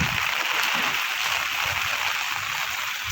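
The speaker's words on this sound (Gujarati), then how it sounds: "વરસાદ ફૂલ ચાલુ છે." Heavy, continuous rain pours steadily, with runoff from a rooftop splashing down, a dense even hiss with no voices.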